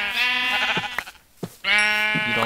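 Sheep in the Minecraft video game bleat repeatedly, several loud close calls in quick succession with a short gap between them.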